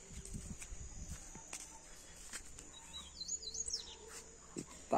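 Faint papa-capim (Sporophila) songbirds sing in the open air, caged and free, with a few quick high twittering phrases over light rustling and distant background noise.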